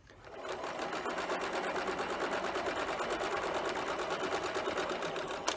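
A sewing machine stitches a cloth face mask seam with elastic, running in a steady, fast mechanical whir for several seconds, close up and alone, briefly backstitching to lock the seam.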